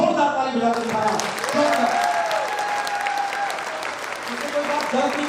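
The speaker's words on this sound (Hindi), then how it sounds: "मैं चाहूंगा इन सब के लिए एक बार जोरदार ताली बजाकर दिखाना।" Loud audience applause at a company first-anniversary stage celebration in Prayagraj, sustained dense clapping from a large crowd filling the whole stretch, with a voice briefly audible at the start.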